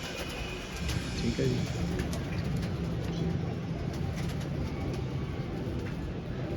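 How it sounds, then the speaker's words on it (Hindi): Pigeons coo softly in a loft, a prized old bird with paralysis among them, under a steady bed of outdoor noise while someone talks briefly. "बड़ा नायाब कबूतर है दोस्तों"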